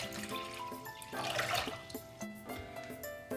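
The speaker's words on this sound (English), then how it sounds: "So now I'm going to add another half of the liter." Water pours steadily into a pan as a second half-liter is added, a continuous near splashing and trickling that runs alone for a few seconds.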